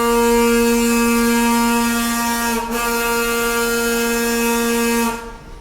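A loud, steady diesel train horn on the Bhakra railway at Nangal Dam sounds one long blast lasting about five seconds, dipping briefly near the middle and cutting off abruptly as the train departs.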